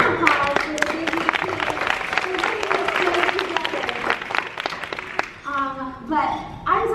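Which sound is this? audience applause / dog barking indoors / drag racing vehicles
audience applause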